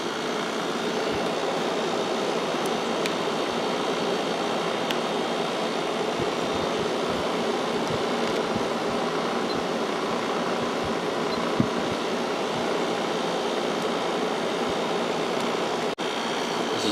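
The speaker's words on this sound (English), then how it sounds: "This is blowing nice cold air, even with the heater going right into it." A Kenmore 5,450 BTU window air conditioner runs on high speed, a steady broadband rushing hum with a constant fan roar throughout, with a heater also running nearby.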